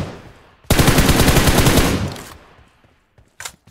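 Loud, rapid automatic gunfire in the battle royale game BGMI, one burst of about a second and a half that fades out, followed by a couple of faint distant shots.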